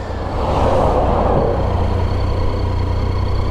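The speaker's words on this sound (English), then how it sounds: "Joys of holiday traffic." Holiday road traffic of cars and trucks on a drive through Devon and Cornwall, heard as a steady, loud, close engine rumble and road noise with a low drone and a slight swell of passing noise early on, with no talking.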